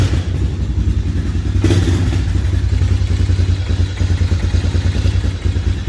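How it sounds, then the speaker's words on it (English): Steady, low idle of a Honda Recon ATV engine with a rhythmic chugging pulse and one brief clatter near the start, running close and fairly loud. "very quiet engine, purrs like a kitten."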